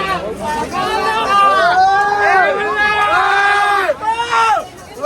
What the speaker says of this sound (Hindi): बहुत ज़्यादा भीड़ है मेला है